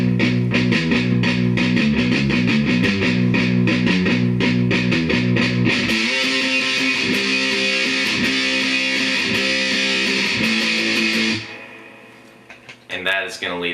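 Electric guitar plays the end of the verse into the pre-chorus: rhythmic chugged chords, then a sustained, brighter section before fading out, with a brief voice at the very end.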